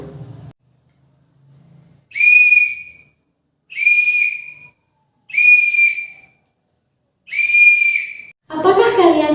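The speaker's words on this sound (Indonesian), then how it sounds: "Ibu punya suatu benda namanya peluit" A teacher's whistle sounds four times in a row, each a clear, loud, shrill blast lasting about a second with short silent gaps between, after a brief voice at the start and before a burst of voice at the end.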